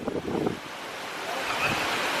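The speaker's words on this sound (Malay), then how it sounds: "Sekarang ni ribut tu abah." Strong storm wind gusts and rushes steadily against the microphone, a loud broadband roar that builds after a brief moment of nearby voices at the start.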